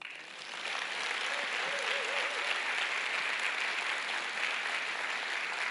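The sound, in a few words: church congregation applauding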